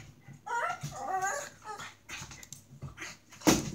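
A pet dog whimpers and yips close by in a series of high, wavering whines, ending with a sharper yelp.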